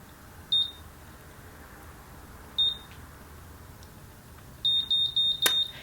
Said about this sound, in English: And when it does that beep, you let go.